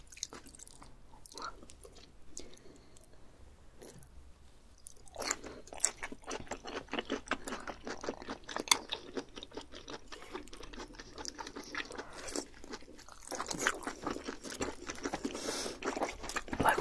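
Raw yellowtail (bangeo) being chewed in a mukbang, quiet close wet chewing and soft crunchy bites that grow busier after the first few seconds.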